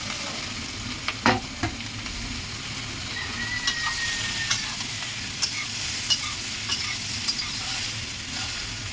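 Water lily stems (shapla) sizzle steadily in hot oil in a pan with black cumin and green chillies. Sharp scraping clicks from a stirring utensil break in at irregular intervals over the continuous frying hiss.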